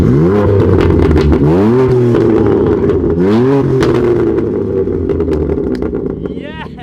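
A BMW M2 Competition with a loud modified exhaust, revving hard in repeated rising and falling sweeps that end in a roaring idle, very close, with people talking over it.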